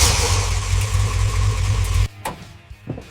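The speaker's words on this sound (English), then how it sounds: "Flathead V8, let's see if she still breathes." A Ford F-100's flathead V8 runs loud and close with a rough, throaty roar, then cuts out abruptly, leaving faint scattered knocks in near quiet.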